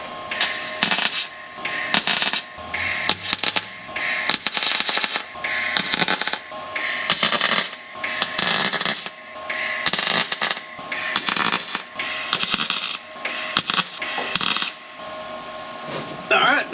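MIG welder finishing the last spots on a replacement trunk floor in a Pontiac Firebird, a series of about a dozen short crackling, sizzling bursts separated by brief pauses, loud and close.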